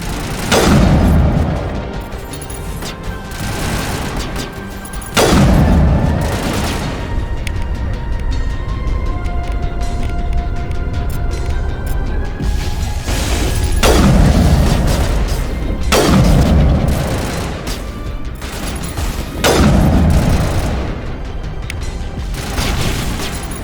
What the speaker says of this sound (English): Bro, how many times do I gotta shoot you in the head